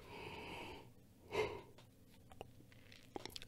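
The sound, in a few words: a yawn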